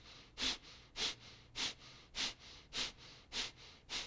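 Kapalabhati breathing: eight sharp, forceful nasal exhales at a steady rhythm about every half second, close and fairly quiet, with no talking.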